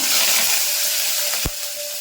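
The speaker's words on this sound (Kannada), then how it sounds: "ಎಣ್ಣೆ ಕಾದಿದೆ. ಅರ್ಧ ಟೇಬಲ್ ಸ್ಪೂನ್ ಜೀರಿಗೆ, ಅರ್ಧ ಟೇಬಲ್ ಸ್ಪೂನ್ ಸಾಸಿವೆ ಹಾಕೊತಾ ಇದ್ದೀನಿ." Cumin and mustard seeds sizzle steadily and loudly in hot oil, a close, continuous frying hiss broken near the end by one brief clatter.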